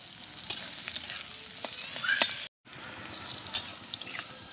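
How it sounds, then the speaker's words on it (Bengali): Potatoes being stirred and fried in hot oil: a close, steady sizzle with sharp scraping and clinking strokes from the stirring utensil at irregular moments, interrupted by a short gap. "আলুটা নেড়ে চেড়ে অর্ধেক ভেজে নিতে হবে।"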